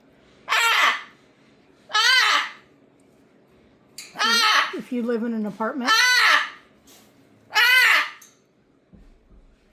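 Harsh, loud parrot squawks burst out about five times in regular rhythm, close to the listener, with a person speaking briefly in between.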